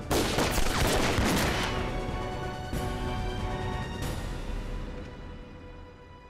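A volley of gunfire opens an action drama scene set in the anti-Japanese war, starting as a loud, dense burst of many shots that decays into a long fading echo, with no talk over it.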